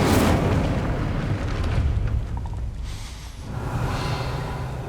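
An Incendio fire spell cast in Hogwarts Legacy bursts out as a broad, roaring whoosh of flame that swells, dips briefly and surges again, loud and close with no voices.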